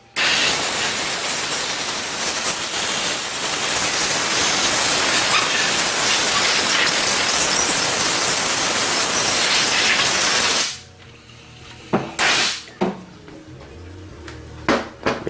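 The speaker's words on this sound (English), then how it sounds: "Get some compressed air and blow it out." Compressed air blasting out Honda transmission parts during a rebuild, a loud, steady roaring hiss for about ten seconds, then a few short bursts and clanks of handling.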